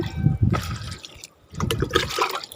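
Liquid fertilizer is poured into a plant pot in two short, close splashing pours separated by a brief pause, trickling and gurgling with no talking.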